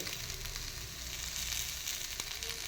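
A veg sandwich with cheese toasts on a pan while being pressed down, giving off a continuous, even sizzle and fry at close range with no talking.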